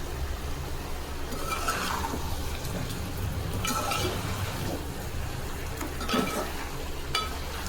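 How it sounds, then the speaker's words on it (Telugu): Spoon scraping and stirring thick chicken curry in a frying pan, with a steady low sizzle underneath and occasional clinks of metal. "సో ఇప్పుడు ఒకసారి కలుపుకుందాం."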